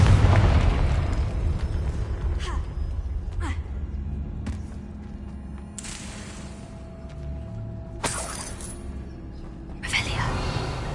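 Confringo spell explosions in Hogwarts Legacy, several loud booming bursts spaced a couple of seconds apart over a rumbling background, with a heavy low impact at the start.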